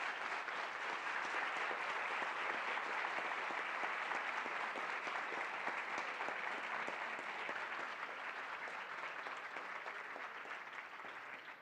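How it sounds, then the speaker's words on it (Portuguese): Sustained audience applause at a lecture with international correspondents, dense and steady throughout, tapering slightly toward the end, with no talk over it. "queria pedir o nosso melhor presente, nosso melhor agradecimento, que são os aplausos de vocês a cada um deles"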